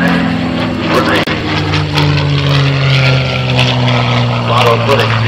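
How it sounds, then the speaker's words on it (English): A 1944 North American P-51 Mustang fighter passes overhead at an air show, its piston engine and propeller droning loud and steady for several seconds over crowd noise. "Vlado Lenoch flying the North American Aviation Mustang, built in 1944."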